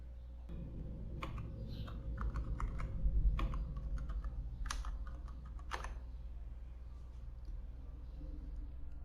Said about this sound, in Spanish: And then we type in our password.